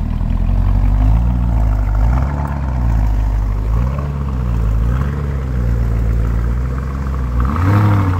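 A Lamborghini Urus exhaust revs repeatedly at a dealership, loud and close, with the engine note rising and falling in several rhythmic swells over a steady rumble.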